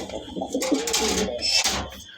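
Large pigeons coo in soft, close, low murmuring phrases that repeat across a couple of seconds with little else around them.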